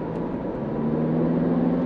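Toyota Fortuner 2.8 GR 2023 engine revving up in sport mode, a steady loud droning hum with a rising tonal whine building over about two seconds, no voices.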